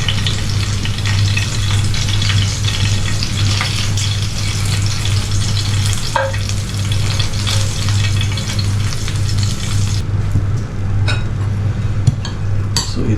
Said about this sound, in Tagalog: Our fried chicken breasts using olive oil.